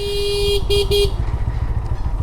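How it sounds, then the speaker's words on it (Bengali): A faulty motorcycle horn gives three short, strained toots, the first longer, over the steady rumble of the bike's engine riding near a bridge. "ডেমনে হর্নের অবস্থা একেবারেই খারাপ হয়ে গেছে"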